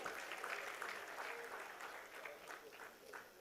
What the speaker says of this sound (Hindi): एक बार जोरदार तालियों के साथ एकल सुरताल टीम का स्वागत करें मंच पर